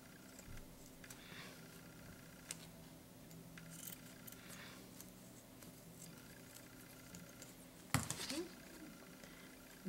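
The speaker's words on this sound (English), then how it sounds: "I'll just cut it because I don't need that part." Scissors cutting saree ribbon, quiet close snips with one sharper crisp cut near the end, over a faint hum of room noise.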